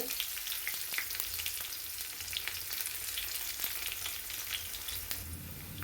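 Steady, dense crackling sizzle of onions frying in hot coconut oil with mustard seeds and dried red chillies, continuous and fairly loud throughout with scattered sharper pops.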